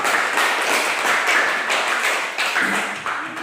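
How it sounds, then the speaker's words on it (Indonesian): Classroom applause for a student group, steady dense clapping from many hands throughout, fairly loud and close with no talking over it. "Tepuk tangan bagi kelompok 2."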